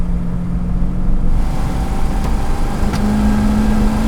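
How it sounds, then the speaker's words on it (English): A Jensen FF engine with a carburation fault runs loud and close, rising slightly in pitch with a couple of sharp faint pops that could be backfires over a steady rumble. "backfiring"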